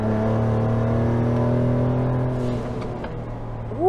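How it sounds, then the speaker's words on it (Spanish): A modified exhaust on a 2017 Ford Raptor revs and accelerates with a loud, steady drone and rising harmonics. The sound eases off near the end, then a sharp upward whoosh rises, and nobody speaks. "tiene tubería borla, así que por eso suena así"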